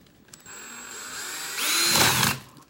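A power drill whirs briefly at low speed, then revs louder for under a second as it bites into a wooden table, close by.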